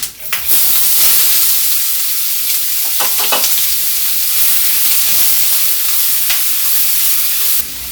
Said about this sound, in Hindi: प्याज को हल्का ब्राउन होने तक हम भून लेंगे।